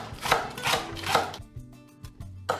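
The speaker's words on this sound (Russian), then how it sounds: "Режу лук, отправляю в миску." Knife chopping onion on a cutting board in a home kitchen, several firm rhythmic strokes followed by lighter quick taps, close and clear with no voices.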